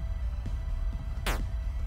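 A single short 8-bit gunshot effect, raised in pitch, zaps with a quick downward sweep. It stands out briefly against a faint low hum in an otherwise quiet passage.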